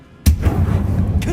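A Confringo spell blast in a Harry Potter video game lands as a single loud, deep boom with a sharp onset and a rumbling tail that carries through the brief moment.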